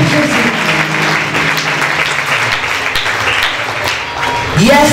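A church congregation breaks into loud, sustained applause for Jesus, a dense wash of clapping with voices mixed in, ending with a rising shout.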